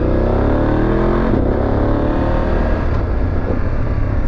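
A vehicle engine pulling hard in first gear through a mountain hairpin on a road trip across France, Germany and Switzerland, loud and close with a sustained rising rev throughout.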